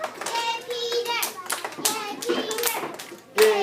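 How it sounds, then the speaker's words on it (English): Children in a reading group clapping for a classmate named Peter, a few bursts of small hands clapping amid excited kids' voices and shouting. "I want the Busy Bees to give Peter a round of applause"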